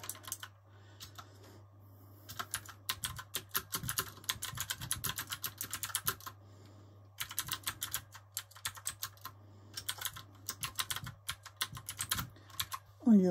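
Rapid typing on a USB computer keyboard, bursts of clicking keystrokes near the microphone separated by brief pauses, over a steady low hum.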